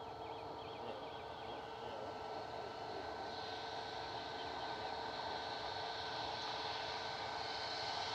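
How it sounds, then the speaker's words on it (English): Ryanair Boeing 737 MAX 8-200 departing from Manchester Airport toward Malaga: steady broadband jet engine roar with a constant whine, heard from a distance at low level, slowly building over several seconds. "This is Ryanair heading off to Malaga, a Max 8 200, EI IJA with flight 3232."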